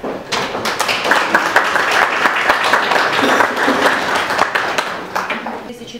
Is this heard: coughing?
no